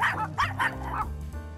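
A dog barks and yips playfully in quick repeated bursts, close and fairly loud, with no talk.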